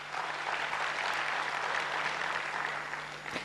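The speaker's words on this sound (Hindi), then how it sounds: "अभी जोरदार तालियां बजाइए" Steady applause from a large crowd fills the whole stretch, loud and continuous with no voices over it.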